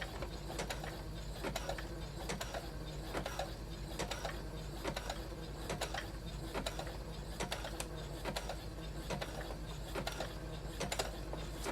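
A sewing machine runs a crisscross stitch back over elastic on a lace mask, a close, continuous mechanical whir with a fast, regular ticking rhythm that holds steady from start to finish with no talking.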